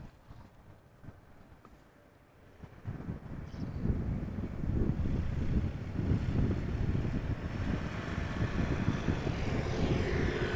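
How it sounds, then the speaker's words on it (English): A Boeing 777-200ER airliner arriving at Amsterdam Schiphol, its engine roar swelling from quiet to a loud, sustained rumble mixed with wind buffeting on the microphone. "Boeing 777-200 arriving from Panama City"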